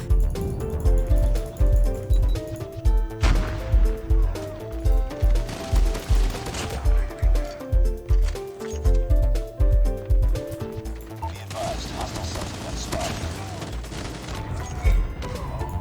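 Turret gunfire in the game Call of Duty Mobile: a rapid, steady stream of heavy automatic shots under music, loud and close, with slight breaks in the rhythm.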